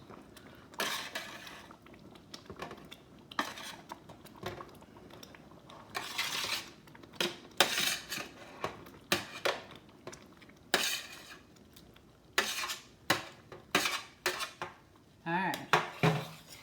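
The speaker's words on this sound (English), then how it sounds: "Now be gentle when you're stirring them in here." Meatballs being gently stirred into red sauce in a pot, with repeated clinks and scrapes of a utensil against the cookware coming in irregular bursts at close range, and a brief spoken remark.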